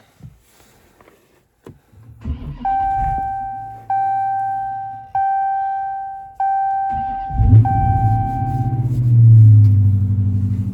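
A manual-transmission muscle car engine cranks, fires and settles into a loud rumbling idle, then revs into a deeper roar near the end, with a steady chime running over the idle and no talk.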